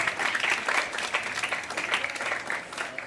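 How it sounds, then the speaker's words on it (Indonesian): An audience at a school Christmas service at SMP Negeri 5 Jayapura claps together, a dense, continuous wash of applause from many hands that holds steady for about three seconds. "Tepuk tangan buat Tuhan."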